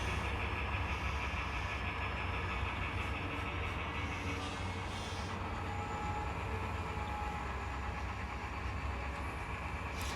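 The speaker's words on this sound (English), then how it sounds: "And I didn't really think you guys would mind seeing the train head over the bridge anyhow." A continuous rumbling train crosses a bridge at a steady pace toward a rail yard in Chillicothe, with a constant low roar and faint metallic rattling, no voices.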